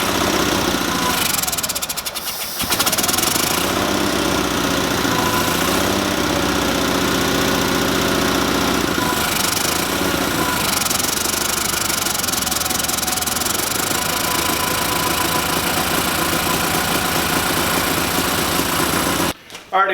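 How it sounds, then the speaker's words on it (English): A Sears Suburban SS16 lawn tractor engine, given a shot of carb cleaner after a fuel problem, catches after a brief crank and settles into a loud, steady, slightly knocking idle that runs continuously before cutting off. "Well, let's see how it starts."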